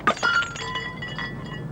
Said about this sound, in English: Breaking the bottle didn't set off the alarm.